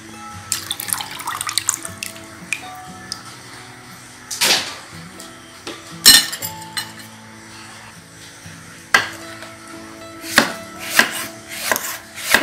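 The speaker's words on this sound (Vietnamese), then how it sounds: "mình sắc cái bắp chuối cho nó được trắng" Knife slicing a banana blossom for a Vietnamese salad, giving sharp intermittent cuts against a board amid running tap water and soft kitchen background, no one speaking.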